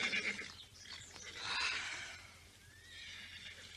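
A horse neighs in a drawn-out, shaky whinny that rises and falls, followed by a second shorter call, moderately distant and faint, with no talking.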